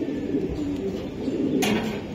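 Racing pigeons coo in a low, steady murmur through a loft, with a soft brighter rustle near the end.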